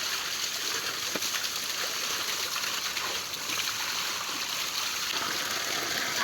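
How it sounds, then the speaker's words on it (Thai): Steady rushing and trickling of a cold forest stream as water is scooped into a jug near dusk, continuous and close with faint splashes throughout. "นี่ตักเลยน้ำใส่ตุก"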